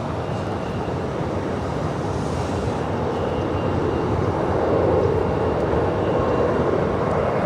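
A jet airliner roaring down the runway on takeoff at Los Angeles International Airport, a loud, steady, broadband engine rumble that swells slightly toward the end, heard alone without talk.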